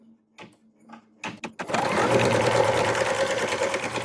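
An embroidery sewing machine stitches an in-the-hoop quilting tack down on fabric. After a few brief clicks and taps at the start, a steady, loud, rapid mechanical whir runs continuously to the end, close up.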